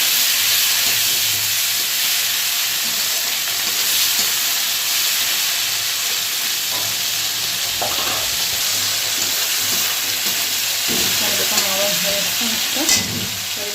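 A whole medium tomato frying in a pan with whole cardamom, cinnamon and cumin for a vegetarian soybean dish, producing a loud, dense, continuous hiss with occasional stirring scrapes and clatter near the end.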